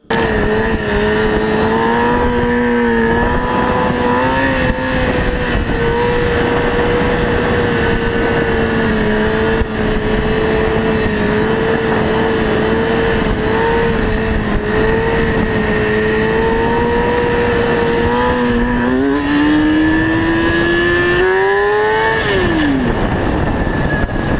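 Motorcycles speeding at night on a busy road while bikers pull wheelies, a loud continuous engine drone whose pitch holds steady and then climbs sharply near the end.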